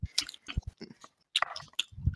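Gum being chewed close up, a run of wet, irregular smacking and squishing bursts with brief pauses between them and no talking.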